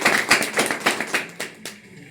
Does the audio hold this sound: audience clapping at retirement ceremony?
yes